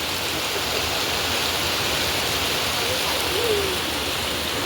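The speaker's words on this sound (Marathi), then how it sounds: "चांगलाच लागलाय पाऊस" A heavy downpour roars outside a home, a thick, unbroken wash of falling water that stays loud and constant throughout, no one speaking.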